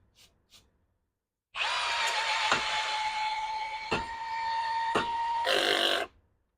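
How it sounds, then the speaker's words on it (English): A power drill fitted with a Würth step drill bit whines loudly and steadily for about four seconds as it cuts, with a few sharp clicks and a brief rougher burst before it stops abruptly. "smooth drilling, no warping, no stress, just pure power in your hand"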